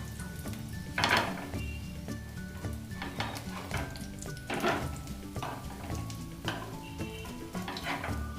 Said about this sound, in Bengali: উল্টে পাল্টে এগুলো ভেজে নেব